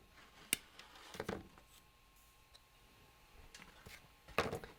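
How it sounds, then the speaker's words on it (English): Two or three sharp scissor snips cut the excess cord end on a homemade Attack on Titan thunder spear prop, close and crisp with quiet gaps between. "Now we'll just cut off the extra."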